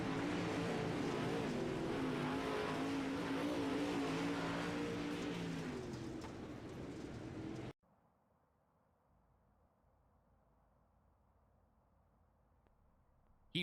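Dirt race cars on the Lernerville Speedway oval in iRacing, a loud steady roar of several engines for about eight seconds, then cutting off abruptly to near silence.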